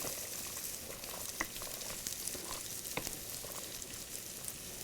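Green beans sizzle and pop steadily in a hot pan over medium heat, a continuous faint crackle with occasional sharper spits, no voices.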